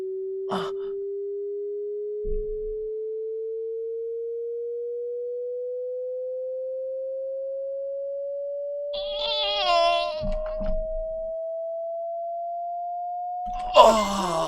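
Eerie pure electronic tone said to come from a LAN cable, one steady whistle slowly gliding upward in pitch for about fourteen seconds, with brief breaths, a gasp and throat noises breaking in near the end.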